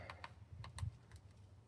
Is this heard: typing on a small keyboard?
yes